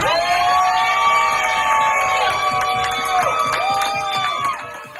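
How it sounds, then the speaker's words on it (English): A crowd cheers, whoops and shouts loudly for a performer named Leo, with sustained high voices rising together and tapering off near the end. "give it a round of applause for Leo"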